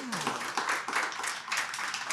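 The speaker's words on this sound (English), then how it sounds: "Can we give her a round of applause?" Audience applause at a book festival in New Orleans, a steady wash of clapping from a seated crowd, moderately loud and continuous throughout, with a brief voice at the very start.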